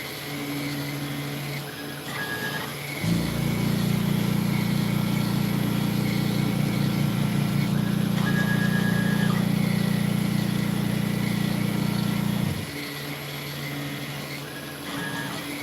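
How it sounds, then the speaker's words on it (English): A machine drills small holes for the artwork in a banjo shop. Its steady mechanical hum starts at about three seconds and runs evenly for roughly nine seconds before cutting off. A quieter background whine continues on both sides of it. "What this thing is doing is drilling these 64-inch holes to where the artwork's going to be having points"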